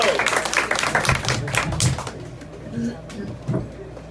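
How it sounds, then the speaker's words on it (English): A comedy club audience claps for a comedian, loud and dense at first, then thinning and fading, with muffled voices and scattered noises underneath. "Clap it up."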